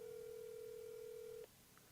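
An unanswered phone call: a steady, even electronic ringing tone holds for about a second and a half, then cuts off abruptly into quiet room noise.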